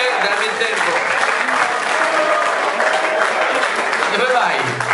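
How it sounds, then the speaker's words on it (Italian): Audience applause at a live event in Padova, a loud, dense and steady wash of clapping that holds evenly throughout. "L'applauso lo si può sentire?"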